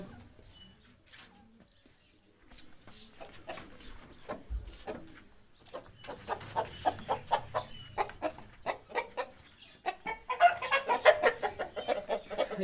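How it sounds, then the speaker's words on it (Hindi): A white breeder rooster clucks in a rapid series of short, repeated calls that grow louder toward the end, fairly close, with faint background noise. "एक वाइट मुर्गा"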